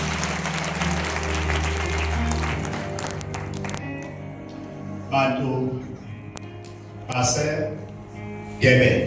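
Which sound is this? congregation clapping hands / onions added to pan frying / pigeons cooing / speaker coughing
congregation clapping hands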